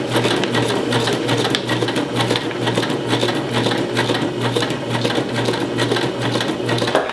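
A sewing machine stitching fabric at a fast, even pace, its needle producing a loud, close, continuous rhythmic chatter throughout.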